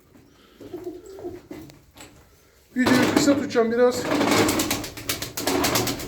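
Pigeons coo and flutter close by, following someone talking quietly at first, with some rustling and wing noise; a flock of twelve Turkish performing (oyunlu) pigeons.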